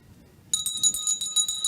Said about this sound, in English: So you hear the bell lap now.